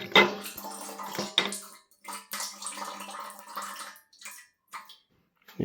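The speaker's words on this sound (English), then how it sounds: "There's the last of the fuel working its way back into the tank." Diesel fuel trickles and gurgles back into the tank of a David Brown 3-cylinder tractor, an uneven liquid pouring sound, close and fairly loud, that fades toward the end.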